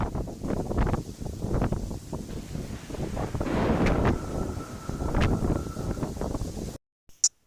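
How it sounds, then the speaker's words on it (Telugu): Strong wind roars and buffets continuously at high volume, then cuts off abruptly into near silence. "ఆ గాలి వేగం శబ్దం వినండి"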